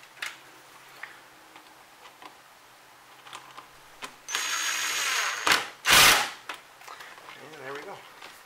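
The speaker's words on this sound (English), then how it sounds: "I'm gonna go ahead and tighten this back down" A hand tool tightens the airbox on a Ford Ranger with scattered light ticks and clicks, then a few seconds of close buzzing whir and a loud rasping burst, with a brief voice near the end.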